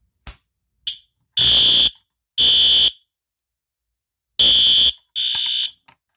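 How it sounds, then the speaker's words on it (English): Loud electronic fire alarm blaring in long bursts, two pairs of harsh shrill blasts separated by silence, with a couple of short clicks. "So we're going to go ahead and pull the fire alarm."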